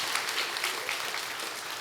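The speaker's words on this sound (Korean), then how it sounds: "우리 한 번 더 하나님께 영광의 박수를 드리기 원합니다." Sustained applause from a church congregation during a Sunday service, steady and dense clapping filling the whole moment with no talking.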